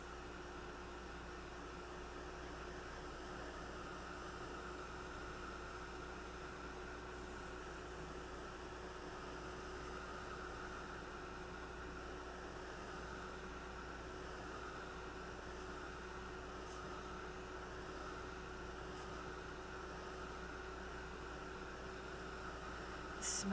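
A steady, even whir of a hair dryer drying paper runs without pause, a constant airy hum with a faint low drone beneath it.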